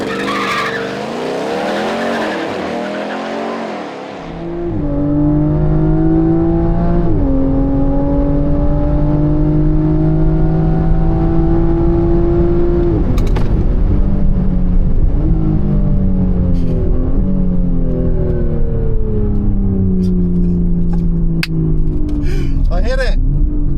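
Soft-top car launching hard at a drag strip, engine revving up through rising gear pulls with a brief skid or tire squeal at the start, loud and close, under talk.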